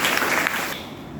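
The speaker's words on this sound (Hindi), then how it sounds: "तालियों की गड़गड़ाहट के साथ स्वागत कीजिए" Audience applause at a college poetry recital in a women's college hall in Patna, a dense, steady burst of clapping that fades slightly toward the end, with no talking over it.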